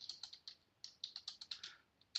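Someone types a line of text on a computer keyboard in MS Word, a quiet, close run of crisp key clicks in uneven bursts with a short pause midway.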